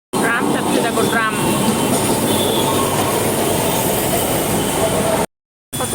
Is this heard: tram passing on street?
yes